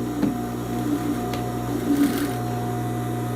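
A sewing machine runs steadily, stitching the seam of a straight skirt with a ruffle, with a continuous close mechanical hum and faint rhythmic needle ticking throughout.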